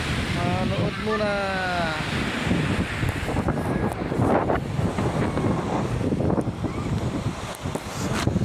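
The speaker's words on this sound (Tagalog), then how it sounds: "mapahangin, sarap ang hangin, presko na presko" Strong wind buffets the microphone at the seashore, with surf rumbling underneath and a voice briefly talking over the gusts.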